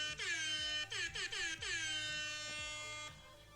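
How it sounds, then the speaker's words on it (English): Loud air horn sound effects blare in a video game: a long blast, then a quick run of short honks, then one sustained blast that cuts off near the end. "They're legit air horns."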